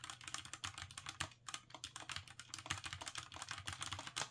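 A Redragon K585 DITI one-handed mechanical keyboard with brown switches is typed on at close range, giving a fast, continuous run of soft, fairly quiet key clicks and clacks with no talking.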